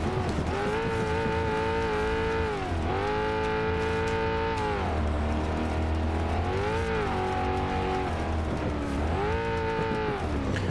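Car in the BeamNG driving game running a King of the Hammers desert lap, its engine note rising and falling repeatedly as it revs and shifts, loud and continuous with no talk.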